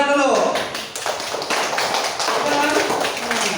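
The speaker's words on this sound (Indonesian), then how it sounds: "tepuk tangan dulu." A group clapping hands in a classroom, a dense, sustained round of many overlapping claps with voices mixed in.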